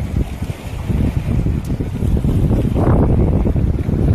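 Strong, steady wind roars across the microphone at sea, a continuous low rumble with rushing water and boat noise, loud and unbroken throughout.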